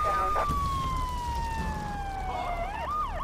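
A police car siren in the video game Grand Theft Auto III wails with a gliding tone that sweeps up and down near the end, heard under engine and game noise while someone speaks German.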